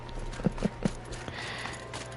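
Mechanical grazer footsteps from the Horizon Zero Dawn video game: three quick, hollow hoof-like clops close together, followed by a quieter game ambience.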